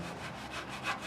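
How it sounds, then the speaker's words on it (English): A brush scrubs a car tire in quick rhythmic strokes, a few close scratchy rubs in a short burst. "Get the blue brush and then scrub the tire."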